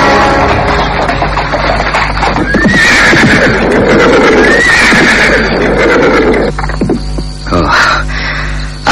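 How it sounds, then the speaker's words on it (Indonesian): Horse-drawn carriage arriving with hooves clip-clopping close and loud, as the horse neighs several times and a low hum runs underneath. "terdengar sebuah kereta kuda memasuki halaman rumah"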